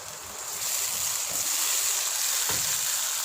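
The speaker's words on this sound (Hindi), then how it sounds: "और थोड़ा सा पानी डाल देंगे ताकि टमाटर सॉफ्ट हो जाएं।" Water is poured into a pan of frying tomatoes and onions for aloo keema, setting off a steady, close hiss and bubbling sizzle with a brief clatter midway, and no one speaking.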